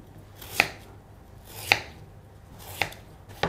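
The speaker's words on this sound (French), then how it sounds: "Puis vous recoupez ce tronçon en lamelles" A knife cuts a peeled turnip into strips, three crisp, evenly spaced chops against a board, close and clear with nothing else heard.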